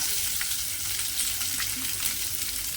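Curry leaves and finely chopped onion crackle in hot oil, a steady close frying hiss with faint small pops and no speech.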